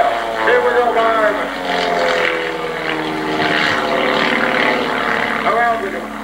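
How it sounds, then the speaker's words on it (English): A propeller airplane dives in an aerobatic vertical roll at an airshow, its engine droning loud with shifting pitch as it passes, while a commentator talks over it. "Notice he's diving the airplane down to the southeast, using that altitude to turn it into speed and lots of it."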